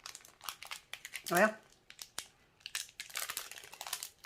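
Plastic packets of yellow rhinestones torn and crinkled open by hand at close range, a burst of crumpling and rustling among brief crackles, with a person speaking between sounds.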